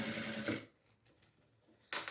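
A sewing machine runs a short burst of topstitching on a retractable fabric pencil case, then falls quiet before starting again briefly at the end, close and clear with no talking.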